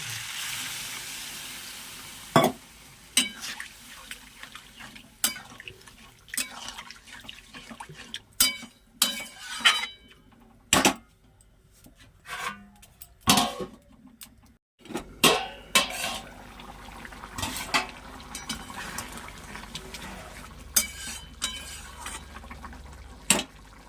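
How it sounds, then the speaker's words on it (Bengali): A pan of snakehead fish curry simmers with a soft sizzle while water is added, broken by sharp clinks of utensils against the pan and pot at uneven intervals. "এই একটু জল দিব"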